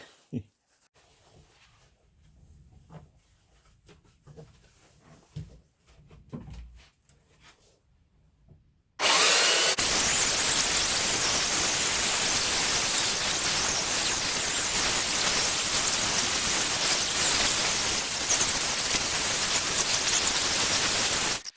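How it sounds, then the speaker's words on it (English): A belt sander with a freshly changed belt starts up after a quiet stretch with faint background sounds, then runs loud and steady as a dense, continuous roar for the remaining twelve seconds. "We've just changed the belt on the sander."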